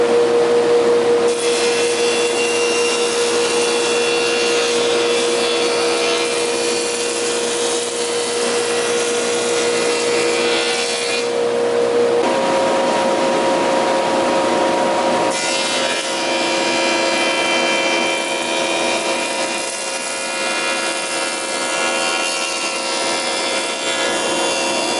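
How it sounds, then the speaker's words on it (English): A wood jointer planes the edge of a board with a loud, steady motor whine and cutterhead roar that shifts in pitch as the board passes through, running continuously with short changes in load. "I'm going to run it through the joiner a few times"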